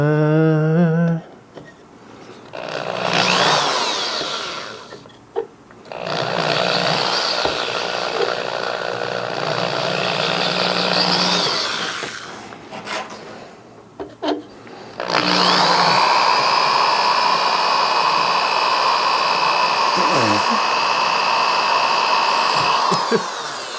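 A power drill fitted with a regular bit grinds against a quartz gemstone in long loud whining bursts, broken by short pauses where the motor stops and restarts, with no clear voices.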